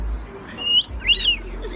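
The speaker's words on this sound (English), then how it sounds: "You're a cockatoo." A Moluccan cockatoo gives two sharp, whistled calls close by, each a quick rising and falling squeal, over a low background rumble.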